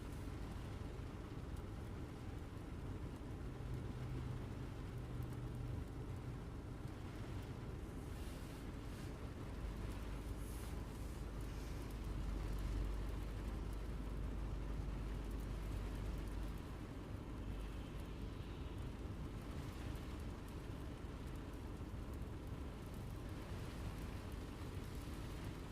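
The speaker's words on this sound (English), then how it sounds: "The rain has picked up a lot, and I'm actually hearing some very small pieces of hail hit my car." Steady rain mixed with very small hail drums on a car roof near Austin, heard from inside the vehicle, a constant dense hiss with faint patter throughout and no talking.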